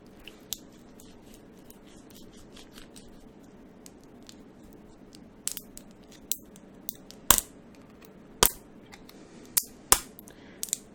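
Plastic lid being pried and snapped off a hot sauce bottle, a few faint scrapes early, then a run of sharp, close clicks and cracks bunched toward the end, with no talk.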